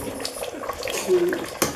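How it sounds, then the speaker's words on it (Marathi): Water pours and splashes briefly into a pot, a short gurgling stream with a faint clink near the end. "मला थोडंसं पाणी टाकते बघा पाणी टाकते"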